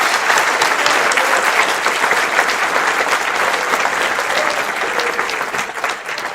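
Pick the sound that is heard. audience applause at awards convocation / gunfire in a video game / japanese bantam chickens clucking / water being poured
audience applause at awards convocation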